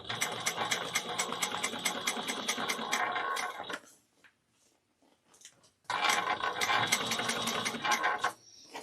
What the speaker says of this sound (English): when I get to the straps, I back stitch once or twice